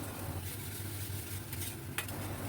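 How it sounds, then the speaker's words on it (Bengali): Spices for pointed gourd korma are stirred in a pan, giving a soft, continuous scraping and faint sizzle, with a slightly louder clink near the end. "আবারও নাড়ালাম।"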